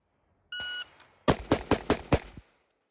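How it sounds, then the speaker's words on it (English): An AR-15 rifle fires five sharp shots at a target seven yards away, starting from low ready after a brief electronic timer beep, the reports spaced evenly and quickly, loud and close. "at 7 yards from low ready, put 5 shots on target with my AR-15 here."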